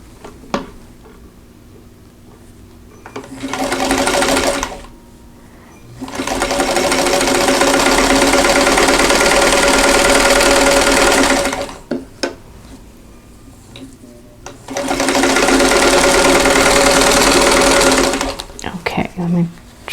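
A sewing machine stitches quilt block pieces for a Kansas Star quilt block, chain-piecing with leaders and enders. It runs in three loud, steady bursts of whirring stitching, with short quiet pauses and small handling sounds between them.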